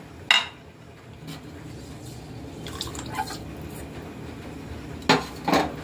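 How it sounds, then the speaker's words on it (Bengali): A rice cooking pot being scrubbed in a home kitchen: a few sharp metallic knocks and scraping clinks spread across the clip, with a faint wet, drippy background between them and no talking. "একবারই হাঁড়ি মাজি।"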